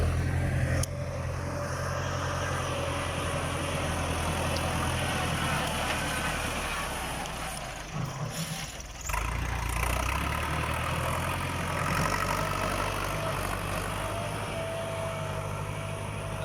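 A 1996 Ford 6640 New Holland tractor idles steadily, its mid-pitched diesel engine drone continuous and fairly close, with a brief dip partway through before settling back to the same even rumble.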